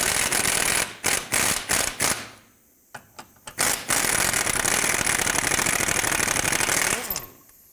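A ratchet spins rapidly in repeated bursts, backing out the lower control arm through bolt on a 2001-2007 Toyota Highlander, with short pauses between runs and a long continuous stretch of clicking close up.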